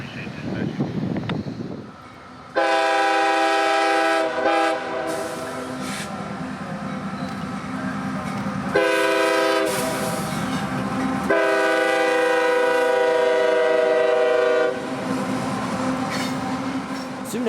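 An empty steel unit train heading back to Indiana Harbor rumbles past, its horn blaring in several long, loud blasts over the rolling wheel noise, with quieter gaps between the sounds.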